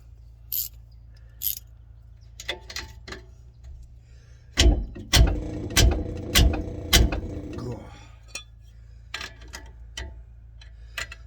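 Ratchet tightening a 17 mm suspension bolt on a Nissan 240SX, a burst of sharp, regular clicking strokes close by, with scattered mechanical clanks before and after and occasional speech.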